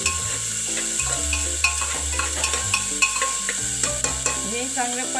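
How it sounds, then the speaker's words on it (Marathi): Onion sautéed in a pan for sweet dal, with repeated spatula stirs and scrapes over a soft sizzle, close and fairly loud, set against background music. "हा कांदा चांगला परतून घ्यायचा."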